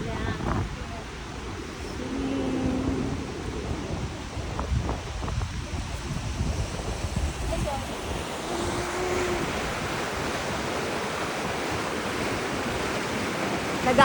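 Steady broadband rush of a river flowing, partly iced over, in Armenia, with some wind noise and faint voices early on.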